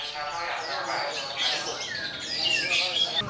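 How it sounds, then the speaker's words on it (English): A pet songbird in a Yogyakarta household chirps and trills in quick, bright phrases, fairly close and steady, with a busy, faintly murmuring background beneath the song. "each household has a bird that sings"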